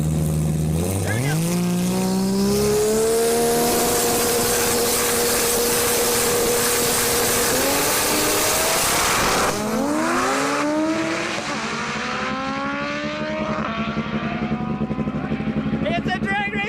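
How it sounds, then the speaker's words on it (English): Drag-racing cars, including a Civic still fitted with a trailer hitch, launch and scream through rising engine revs and gear shifts at a track, loud and close, with an announcer talking over the roar. "It's a drag race on the top end."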